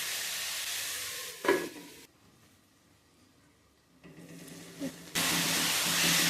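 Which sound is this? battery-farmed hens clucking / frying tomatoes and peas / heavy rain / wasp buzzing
frying tomatoes and peas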